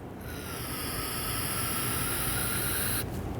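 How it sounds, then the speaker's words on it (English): Spray solvent hisses from a can into a Ford Explorer front brake caliper in one steady, close burst lasting about three seconds, then cuts off abruptly. "We're going to go ahead and spray a little bit of the spray solvent inside."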